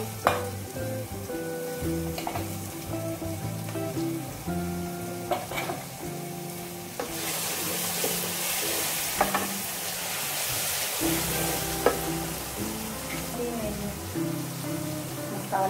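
Garlic sizzles in a pan of hot oil as it is stirred, a steady frying hiss with scraping clatter, which swells louder midway through, with faint background tones underneath.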